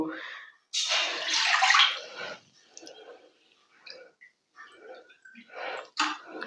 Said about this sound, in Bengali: এই বাটির আমি দেড় বাটি জল দিলাম।